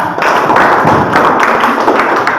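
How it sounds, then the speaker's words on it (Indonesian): A classroom group claps hands together in a quick, close burst of dense, loud clapping with no talk over it. "kita tepuk tangan untuk dia dulu"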